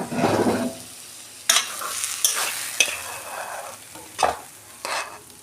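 Taro leaves cooked with a hilsa fish head are stirred and fried in a pan, a steady close sizzle broken by several sharp scraping strokes of the spatula, with no talk.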